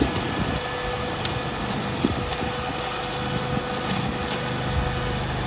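Canycom four-wheel-drive ride-on mower with a Honda GX690 twin-cylinder engine running at a steady idle, a close, even drone and vibration with no break.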